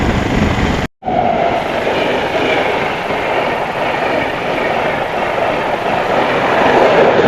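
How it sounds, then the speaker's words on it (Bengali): A mail train rumbles past a railway level crossing in Jharkhand, India, a loud, steady roar of wheels and wagons that runs close and continuous, broken only by a brief dropout near the start. "আমরা একটা রেল গেটে আটকে আছি ঝাড়খণ্ডে। তো একটা মেল যাচ্ছে"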